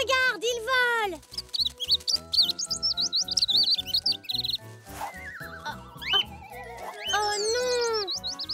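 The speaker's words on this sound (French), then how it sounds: "Poc, tu as sauvé le bébé oiseau." Cartoon baby bird chirping in repeated rising and falling high tweets over a bouncy animated music score, with several short bursts throughout and a longer cluster of chirps near the end.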